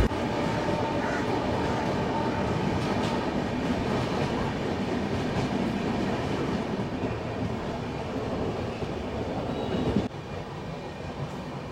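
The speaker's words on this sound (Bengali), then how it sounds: "আবার কিন্তু আমাদের ট্রেন ছেড়ে দিয়েছে রামরাজাতলা থেকে" The Howrah–Barbil Jan Shatabdi Express runs steadily past Ramrajatala, its continuous loud rumble and wheel rattle heard from inside a coach, with a slight shift near the end.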